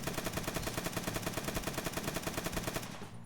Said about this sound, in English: Alright, we're ready for the recoil test for the standard SP5.